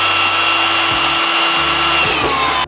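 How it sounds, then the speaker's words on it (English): A power drill bores holes into an RC4WD Trail Finder 3 bumper, a loud close whine with several short dips in motor speed as the bit bites. "so we will have to drill the holes."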